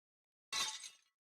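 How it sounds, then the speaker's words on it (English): Glass shattering in the visual novel Fate/stay night Remastered, a single sharp crash of breaking glass with a bright tinkling tail that fades within half a second, isolated against silence. "I ended up using more magical energy than I should have, and the glass shattered."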